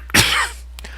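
A single sharp, close cough from a person, followed by a faint breathy trailing sound.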